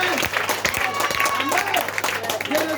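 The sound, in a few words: congregation applauding to acclaim the Lord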